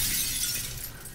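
A glass pane shatters in the sci-fi horror game The Callisto Protocol, a loud bright crash and tinkling spray of shards that fades over about a second, with no talk.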